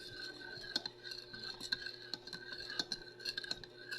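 A spoon stirs bubble mixture in a container, clinking and scraping against the sides in an uneven rhythm of light taps, close and fairly quiet.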